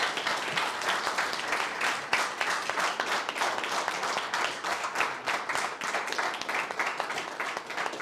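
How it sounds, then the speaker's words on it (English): Audience members at a conference applaud the facilitator with a long, steady round of clapping, individual claps crisp and distinct throughout. "Please give a big round of applause to Michael, the facilitator."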